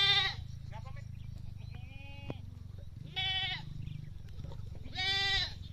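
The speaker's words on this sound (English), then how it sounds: "the mom and the other big goats will now find their foods outside" Goats bleat in a farm pen as they are let out for morning grazing, several loud wavering calls coming in bursts over a steady low rumble.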